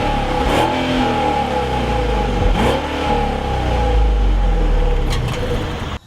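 A 2016 Mercedes S550 V8 revs on a cold start, heard from outside the car: a steady low engine rumble with a few short throttle blips, then it cuts off abruptly near the end.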